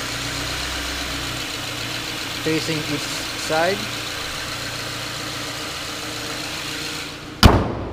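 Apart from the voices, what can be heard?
2014 Subaru Impreza 2-liter boxer engine idling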